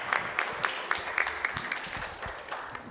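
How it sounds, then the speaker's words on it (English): Applause from guests at a 60th birthday celebration, scattered claps from a modest crowd at fairly close range, fading slightly toward the end. "Round of applause there."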